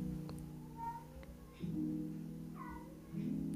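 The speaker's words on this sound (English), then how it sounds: "Sorry for that, it's the cat." A house cat meows several times indoors: short, fairly quiet calls set against a low, steady background hum.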